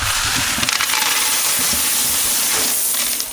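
Loose coins from a charity donation count pour and clatter in a continuous metallic rush, dense and close, with no talking.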